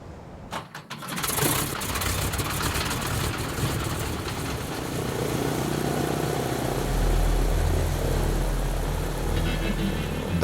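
An antique radial-engine airplane takes off in the Chitina valley of southeast Alaska, its engine roaring steadily and loudly throughout, with a deep rumble that swells toward the end.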